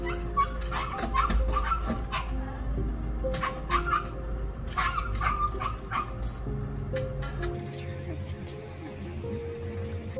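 A small dog tied up outside whimpers, whines and gives short high yips in repeated bursts, fairly close, with a steady low hum beneath and some background sounds.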